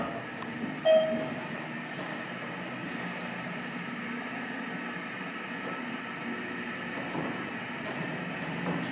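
Inside the cab of a Thyssenkrupp hydraulic elevator at a TEXRail station, the motor hums steadily as the car goes up. A brief chime sounds near the start over a low, constant drone.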